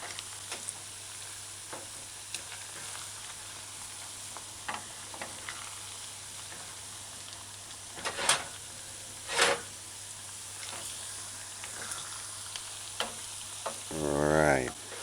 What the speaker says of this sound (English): You gotta let it stay in one place and fry and cook properly before you rotate.